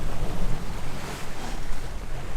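Ocean waves wash and churn around a moving boat, with wind buffeting the microphone, a loud, continuous rushing surge close at hand.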